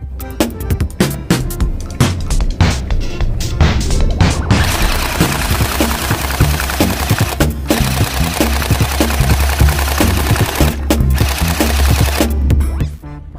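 An AUG-style water gel blaster toy gun fires in rapid bursts of mechanical clatter, first in short stuttering runs, then in a long sustained loud volley with brief pauses.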